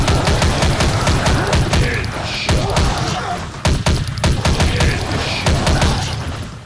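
Rapid gunfire in a mobile shooting video game: dense, loud bursts of automatic shots with thuds and booms, nearly continuous across the clip.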